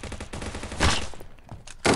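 Rapid automatic gunfire from the mobile shooter game Standoff 2 rattles in tight bursts, then a sharp louder blast near the end, close and punchy, with no speech.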